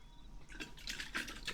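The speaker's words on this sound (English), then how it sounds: "These are your water sounds." Water dripping and splashing in quick, soft bursts, ASMR-style, fairly quiet and close with no voices over it.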